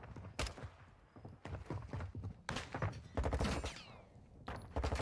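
Gunfire during a ranked match of Call of Duty, with repeated sharp shots in bursts across the clip, close and fairly loud, mixed with other in-game action noise.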